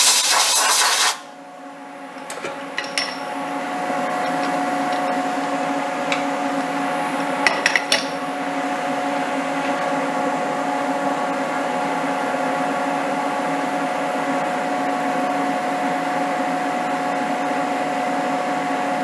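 A CNC end mill machining an injection mold with slight chatter gives a steady, fairly loud whine with a few sharp metallic ticks, after a brief burst of noise at the start.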